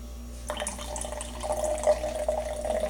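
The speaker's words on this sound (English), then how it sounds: "pour the Sprite in there" Sprite soda pours steadily into a container with a gurgling, splashing sound that rises slightly over a few seconds, with no voices.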